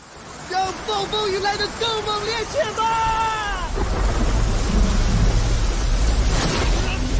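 A thunderstorm with heavy rain sets in; an exclaiming voice comes first, then a dense, steady roar of rain and storm noise rises and fills the rest.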